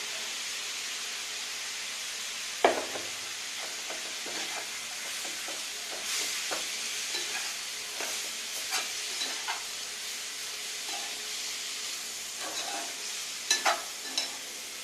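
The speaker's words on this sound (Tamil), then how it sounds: "இந்த அளவுக்கு தக்காளி வதங்கி வரணும்" Tomatoes sauté in a pan for mutton salna with a steady hissing sizzle, broken by occasional stirring knocks and scrapes of a utensil against the pan.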